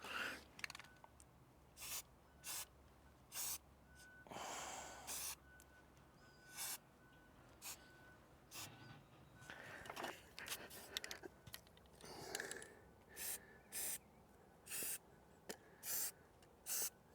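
Short bursts of spray paint hissing from a can onto sprinkler pump bolts, coating between the tops and bottoms, about a dozen quick faint sprays with rustling and handling noises between them.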